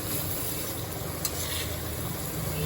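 Boyal fish curry with whole green chillies being gently stirred in a pan, a soft, steady sizzle with a faint scrape, close and even, with no voices.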